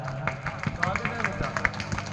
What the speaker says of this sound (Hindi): अगर लाग रहे हो तो एक बार जोरदार तालियां